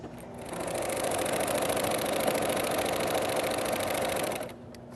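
A sewing machine fitted with a walking foot stitches through three layers of stretchy T-shirt fabric for a rag quilt, giving a loud, steady mechanical whir that runs continuously for about four seconds, then stops.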